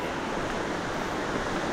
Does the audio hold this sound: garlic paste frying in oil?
no